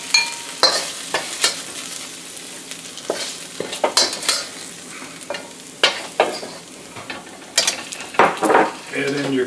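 Garlic and beef fry in a pan while being stirred, with sizzling and irregular scraping, clattering knocks of the utensil against the pan, close and fairly quiet, no talk.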